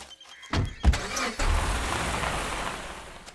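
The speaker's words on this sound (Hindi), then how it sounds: "गाड़ी निकाल रहे" A car is started and driven out, with a thump and a door-like clunk followed by a steady engine rumble building close by; no talking.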